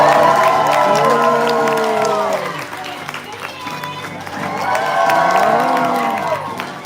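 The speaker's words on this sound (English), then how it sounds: "I want to hear one more huge round of applause for Abby and" Audience applause and cheering at a Georgia Aquarium sea lion show, with a crowd clapping steadily while a host's amplified voice carries over it and whoops rise and fall.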